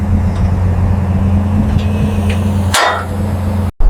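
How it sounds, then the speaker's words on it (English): A rusty car on temporary wheels scrapes up metal trailer ramps, a sharp grinding scrape standing out over a steady engine drone, with a few faint knocks beforehand and an abrupt cut near the end. "Slow and steady, one scrape on the ramps"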